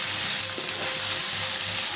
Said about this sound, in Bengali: চিকেনটা দিয়ে দিয়েছি, এবার চিকেনটা দিয়ে নাড়ছি।